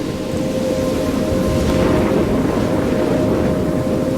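A storm with rain and thunder in the video game Life is Strange, heard as a steady, dense roar of rain and low rumbling that stays loud and unbroken throughout.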